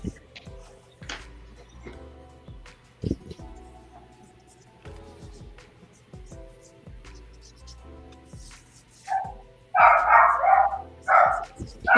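Several dogs bark in loud, overlapping bursts near the end, after a stretch of quieter background sound.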